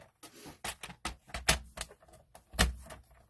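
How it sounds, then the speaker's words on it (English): A card being cut for papercraft, a string of quiet irregular snips and clicks with short pauses between them, close and alone. "the first thing I'm going to do is I'm going to take this card and I am going to cut it"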